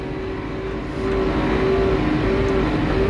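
A tractor's engine roars steadily and loudly as its wheels slip in deep snow, a continuous near drone that rises slightly in pitch partway through, with no talk.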